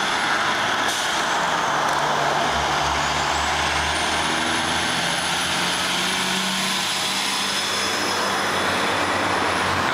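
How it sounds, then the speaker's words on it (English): A dump truck drives past outdoors, a loud broadband roar with low engine rumble and a steady high whine across the whole stretch, with no voices. "That was a dump truck."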